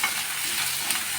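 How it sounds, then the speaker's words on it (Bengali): Ginger is stirred and fried in a wok, a brief steady sizzle with a faint scrape, close and even, with no voices. "আদাটা নাড়তে থাকবো"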